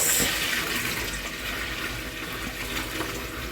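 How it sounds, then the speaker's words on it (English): Starchy pasta water poured out of a cooking pot into a sink, a steady close rushing splash that runs continuously with no voices. "So again, pour out the starchy water."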